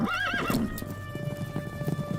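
A cartoon horse gives a loud, wavering neigh, followed by a steady run of light clip-clopping hoofbeats, close and clear with no talking.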